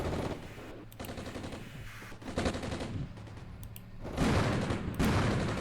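Sustained gunfire and explosions in the Cold War tactical game Armored Brigade, set during a 1988 Yugoslavian invasion of Italy: dense bursts of machine-gun fire over distant booms, swelling louder in the last seconds.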